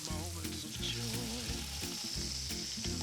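Fruit warming in a pan for a French home-cooking dish, sizzling steadily and loudly throughout, with a soft stirring texture over the continuous frying hiss.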